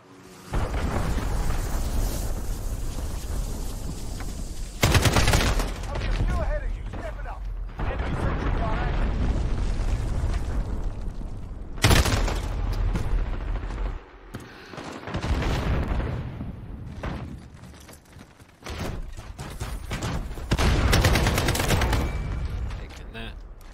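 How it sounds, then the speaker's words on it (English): Heavy combat in Call of Duty: Modern Warfare multiplayer, with an enemy cruise missile strike and gunfire: repeated loud booming blasts and bursts of rapid shooting across a dense, noisy battle mix. "Enemy cruise missile incoming."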